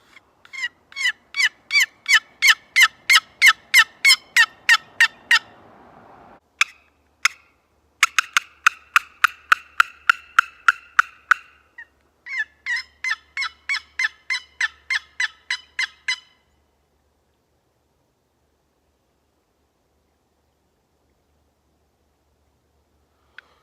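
Box call worked to imitate turkey yelps while scouting, long runs of sharp, evenly spaced raspy yelps in three series with brief breaks, then silence; clean and close with no talking.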